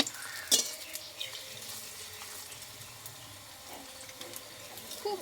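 Pumpkin leaf fritters fry in oil in a pan with a steady low sizzle. A sharp clink of a utensil comes near the start, and a few soft scrapes and taps follow.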